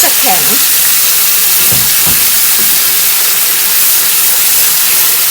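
Pad Thai noodles stir-fried in a pan after a splash of water, a loud continuous sizzle and steam hiss with a few brief scraping stirs, close up; a voice is heard faintly at the start.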